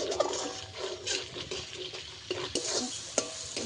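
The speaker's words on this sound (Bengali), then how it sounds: "আর কয়েক সেকেন্ড একটু ভেজে নেব মশলাটাকে।" Spice paste, cooked down until its oil separates, fries in a pan and is stirred, with close crackling sizzle and irregular scraping and clinking strokes, no voices.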